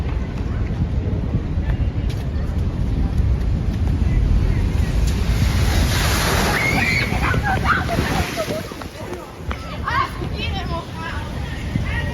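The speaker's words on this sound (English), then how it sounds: "If you're looking to catch a glimpse of some truly massive waves, you should head to San Sebastian" Huge ocean waves break at San Sebastian in a steady, loud roar of surf and sloshing water, with heavy wind buffeting the microphone throughout.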